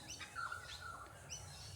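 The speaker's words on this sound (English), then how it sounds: "The birds are all singing." Several birds sing and chirp in the evening outside an off-grid workshop, bright tweets and whistled calls repeating over steady low background hum, moderately distant.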